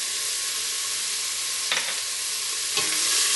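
Onions with salt sizzle loudly and steadily in a pan, close up, with a couple of brief stirring scrapes cutting through the continuous hiss, no voices.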